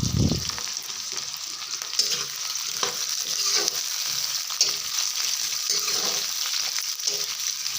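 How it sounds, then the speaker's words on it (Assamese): Onions frying in a pan and stirred with a spatula, a steady hissing sizzle with soft repeated scraping strokes, close and even throughout, no talking. "পিঁয়াজ দি দিলোঁ আৰু এতিয়া এয়া অলপ ভালকৈ লৰাই দিম"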